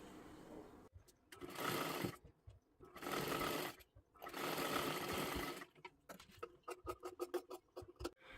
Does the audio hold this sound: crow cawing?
no